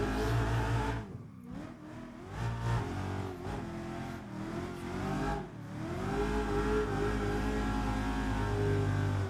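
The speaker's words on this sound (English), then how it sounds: "I'm going to clutch kick with it" A car engine revs hard during a drift clutch-kick entry, pitch surging and dipping several times before settling into a loud, sustained high-rev drone; no voices.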